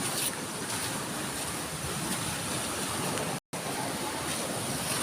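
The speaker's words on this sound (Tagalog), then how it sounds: "Malalaki yung alon kasi may low pressure daw guys." Large ocean waves breaking at a beach resort during low-pressure, rainy weather, heard as a loud, continuous broadband roar of surf with wind buffeting the microphone, broken by a brief dropout.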